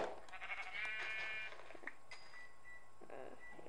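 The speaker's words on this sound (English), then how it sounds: "I was killing a sheep on Minecraft." A sheep in the video game Minecraft bleats a few times, with wavering, nasal calls that rise and fall over a faint game background.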